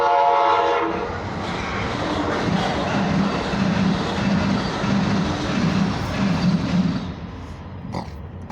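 A train passes on railroad tracks, opening with a loud horn blast, then a steady rumbling roll of wagons and rhythmic track noise that fades slightly toward the end.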